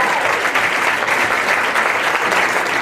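An awards-ceremony audience applauds the winners, a steady, dense wash of many hands clapping loudly and close for the whole stretch, with no pauses and no talk over it.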